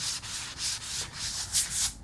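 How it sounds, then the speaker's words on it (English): Light hand sanding on a damaged drywall corner near the corner bead, a close, steady scratchy rubbing in short back-and-forth strokes, alone without talk. "we're just going to do a light sanding right here"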